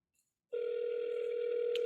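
A telephone tone rings out on a cold call to a neighborhood homeowner, a steady electronic tone that starts abruptly after a short silence and holds evenly, clear and fairly faint with no talk.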